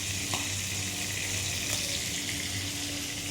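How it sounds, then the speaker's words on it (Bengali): Rohu fish pieces fry in hot oil in a pan, a steady close sizzle with soft bubbling crackle, continuous and even with no talking. "দেখো মাছ ভাজা বসিয়ে দিয়েছি"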